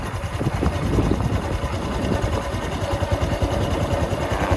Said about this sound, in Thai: เสียงเครื่องยนต์ในรอบเดินเบาก็จะประมาณนี้นะครับ